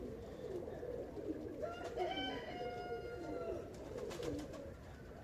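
Pigeons coo in a steady murmur while young birds beat their wings, a busy flock close by with bright calls rising over a dense, continuous background.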